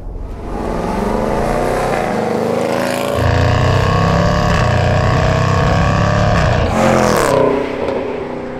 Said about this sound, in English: the noise that comes out of the back of this car is insane.